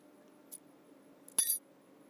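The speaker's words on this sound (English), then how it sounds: "Now I'm going to pop in the clips." Metal brake pad clips snapped into place on the rear brakes of a 2005 Lexus GX470: a faint click, then a brief sharp metallic snap, close by in a quiet garage.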